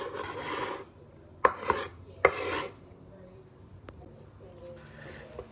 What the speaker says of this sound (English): a little bit of the more fancy schmancy dicing after I diced it up to get even smaller and finer